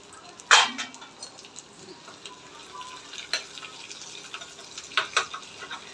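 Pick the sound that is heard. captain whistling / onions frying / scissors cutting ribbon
onions frying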